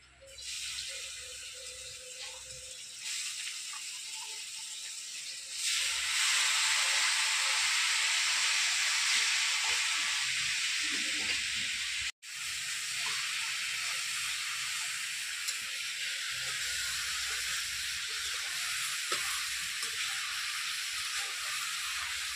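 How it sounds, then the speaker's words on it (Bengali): Bottle gourd dropped into hot oil in a wok sizzles loudly and steadily, a broad close hiss that swells after a few seconds and then carries on continuously. "তেল তো গরম হয়ে গেছে, এবার কড়াইয়ে লাউটা দিয়ে দিই।"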